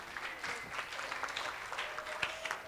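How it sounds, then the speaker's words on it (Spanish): A church congregation at a Sunday service claps together, a soft, fairly distant patter of applause that carries on steadily for a couple of seconds. "un aplauso para nuestra hermana Ivonne"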